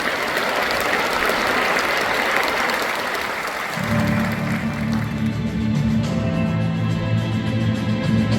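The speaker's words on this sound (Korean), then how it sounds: "박수로 함께 시청하겠습니다." An audience claps at an anniversary ceremony for a peace conference, a broad wash of applause that gives way midway to a low musical tone as a film begins.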